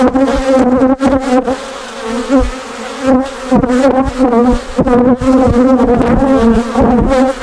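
Honeybees swarm close around an open hive frame during a queen search, a loud, wavering buzz with shifting pitch as individual insects fly past near the ear, with no speech.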